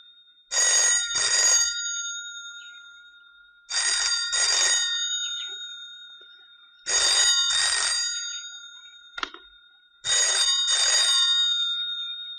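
An old-style telephone bell rings loudly in four separate double bursts, with silent gaps between them and no talking; the line's wires have been disconnected.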